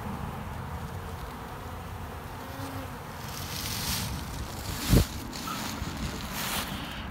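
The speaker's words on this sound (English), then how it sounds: "there is our pollen substitute feeder, and the bees are very happy with it indeed" Honey bees swarm around a pollen substitute feeder out in the bee yards, a steady soft buzzing hum across the whole stretch with one closer insect briefly droning past, no talking.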